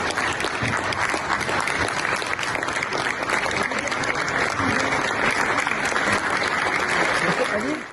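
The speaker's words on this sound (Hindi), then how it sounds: "इस मौके पर फिजा तालियों से गूंज उठी" A hall audience standing to applaud an award recipient at a London ceremony fills the space with loud, dense, continuous clapping that holds steady throughout.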